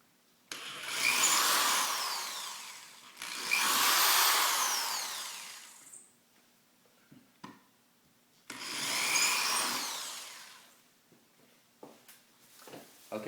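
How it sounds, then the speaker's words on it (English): A power drill with a 3/16 bit bores anchor holes in a wall, three whining bursts of a few seconds each separated by pauses filled with small knocks and handling noises. "we're going to drill out the 2 holes that don't have a beam behind them because we want to install an anchor"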